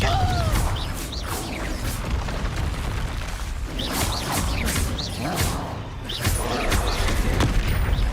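Confringo blasting spells in Hogwarts Legacy go off as repeated booming bursts through a busy game fight, with several loud explosive hits and crackles over a low rumble and a voice talking at times.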